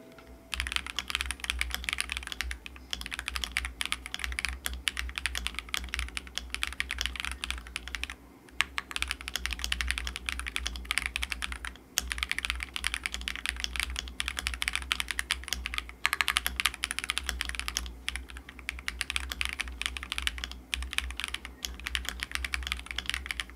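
Rapid, continuous typing on a clicky Epomaker Tide75 aluminium mechanical gaming keyboard, close and crisp, with brief pauses between bursts.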